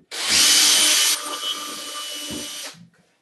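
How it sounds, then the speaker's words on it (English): A power drill bores a hole through a tiled wall, starting with a loud grinding whir that eases to a steadier, softer drone before cutting off. "Now we'll drill the bottom hole."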